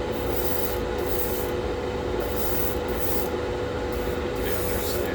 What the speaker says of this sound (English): Don't want to spray too heavy because I don't want runs